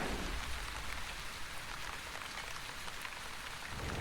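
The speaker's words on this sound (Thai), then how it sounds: "อุ้ยฝนตก" Steady rain falling in The Wandering Village, an even close hiss of raindrops throughout with no other sounds.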